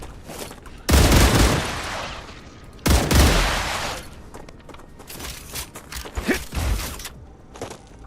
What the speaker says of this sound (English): Just needed to fend off another wave of bugs.